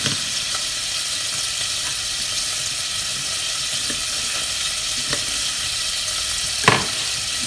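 Butter sizzles steadily in a pan for French onion soup, a dense even close-up hiss with a few faint pops and a single louder clink near the end.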